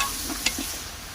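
Dry coriander and turmeric fry in a pot for a chicken and beef rice dish, giving a brief, close, steady sizzle. A light tick of a stirring utensil sounds partway through.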